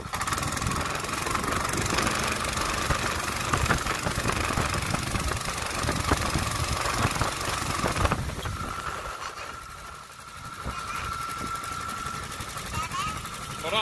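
A Mud Skipper 7 hp outboard motor runs on a canoe on the water with a steady, rough mid-pitched drone and a faint whine, fairly loud throughout, while someone talks over it.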